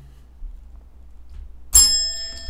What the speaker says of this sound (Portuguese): Sininho da desgraça.